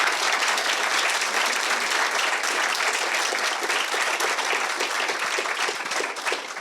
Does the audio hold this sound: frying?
no